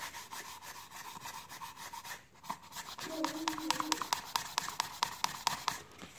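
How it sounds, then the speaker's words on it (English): A sanding pad rubs against a metal pencil sharpener part in quick back-and-forth strokes, with a faint scratchy texture at first, then sharper, louder rhythmic scrubbing clicks toward the end; fairly close and quiet overall. "So let's try with our sanding pad a little bit."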